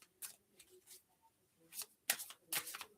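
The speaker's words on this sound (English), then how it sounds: "Oh, shuffle." Tarot cards are shuffled in several quick, crisp riffling bursts, quiet and close, with short pauses between the bursts and no speech.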